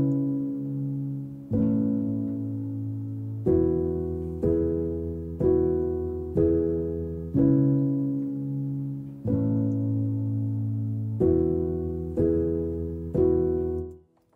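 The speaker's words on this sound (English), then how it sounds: "the piano and the ambiance sound like this." Programmed MIDI piano with added room ambience, produced in Ableton Live, plays sustained chords that change roughly every two seconds, each attack ringing and slowly decaying into a soft, roomy tail, heard alone.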